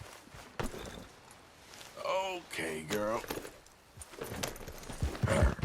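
In the Red Dead Redemption 2 video game, a spooked horse's hooves clop softly and it gives a short whinny in the middle of the scene, while someone speaks briefly near the end.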